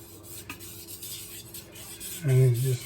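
A kitchen knife is worked against a sharpening surface in short, rasping strokes, close and fairly quiet, followed by a brief louder scrape near the end.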